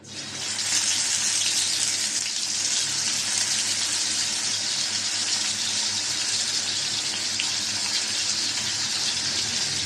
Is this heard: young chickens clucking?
no